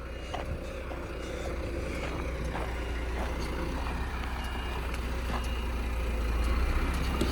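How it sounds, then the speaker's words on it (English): A concrete lorry arrives at a farm for an early-morning concrete pour. Its deep diesel rumble builds steadily and grows louder near the end, with repeated short reversing beeps sounding over it. "We've got another lorry here now."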